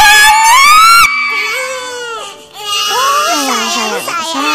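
A baby character in the Sakura School Simulator game screams and cries loudly in long, wavering wails with shrill pitch swings, close and sustained across the clip.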